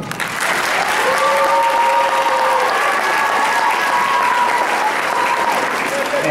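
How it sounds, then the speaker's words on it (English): Graduation audience at a beauty careers school applauding its educators, steady dense clapping across the room with some cheering voices mixed in, loud and sustained throughout. "Let's give a really big applause to your educators"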